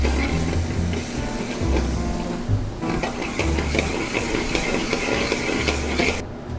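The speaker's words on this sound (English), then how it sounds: "So we have our saucepan here. We're going to put some oil. We're going to start with some chopped garlic." Chopped garlic in oil in a saucepan gives off a loud, steady hiss and sizzle close by, continuous for several seconds with a low rumble underneath.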